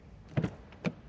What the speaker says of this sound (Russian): Звук закрывающейся двери.